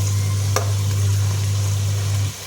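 Fish frying in hot oil in a home kitchen gives a steady, loud sizzling hiss over a constant low hum, with one brief crackle near the start before the sound drops off at the end.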